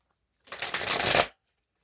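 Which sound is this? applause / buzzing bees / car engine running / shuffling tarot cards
shuffling tarot cards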